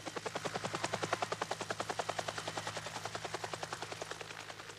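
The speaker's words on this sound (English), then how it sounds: "As the helicopter flew towards the point of impact, a series of photographs was taken." A helicopter flying toward Mount Erebus in Antarctica gives off steady, rapid rotor thumps with a low engine drone, loud and close, alone without talk.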